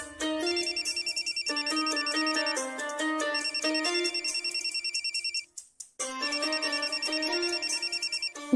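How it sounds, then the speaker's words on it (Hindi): A phone ringtone plays loud and steady in a home, a repeating electronic melody in bursts with a short break before it starts again. "दीदी फोन आवत है।"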